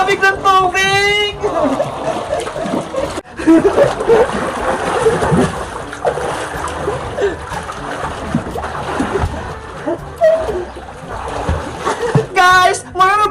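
Loud splashing and churning water in a swimming pool as someone jumps in and thrashes about close by, with someone talking and exclaiming over the turbulent water throughout.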